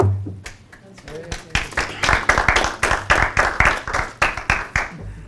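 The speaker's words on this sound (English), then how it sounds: "That applause was not for you, Tom." Applause at a city council meeting, starting with a few scattered claps and building into a loud, fairly close burst of many hands clapping in an uneven rhythm, with voices murmuring underneath.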